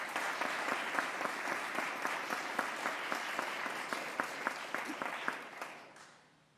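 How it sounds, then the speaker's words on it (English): A crowd claps steadily at a legislation signing event, many hands making sharp distinct slaps with some louder claps standing out, before the applause thins and fades away at the end. "Let's give them a round of applause."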